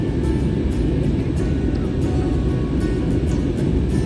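Steady low cabin drone of an airliner in flight from Delhi to Srinagar above the clouds, a constant broadband roar with no breaks, loud and even throughout.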